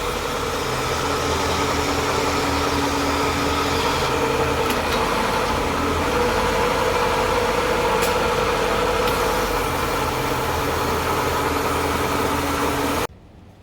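A 2003 Range Rover engine idles steadily and loudly with a constant low hum and faint vibration for the whole stretch, then cuts off abruptly at the very end.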